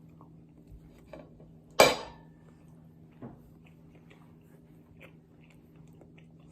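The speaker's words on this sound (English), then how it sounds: "I'll take a bite of the rice first without the soy sauce on" A bite of plain cooked rice taken with cutlery: one sharp clink of utensil on a dish, then a few faint soft chewing and scraping sounds in a quiet room.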